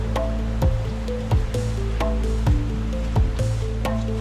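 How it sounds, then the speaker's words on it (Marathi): Water of a stream flowing beneath a footbridge on a forest path near a temple in rainy, misty weather, a steady rushing wash with bright splashing drips and gurgles recurring every half second or so, close and continuous with no talk. "हा ओढा क्रॉस करावा लागतो आपल्याला"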